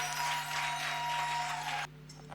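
Wedding guests clapping in a steady, moderately loud burst that ends abruptly near the close.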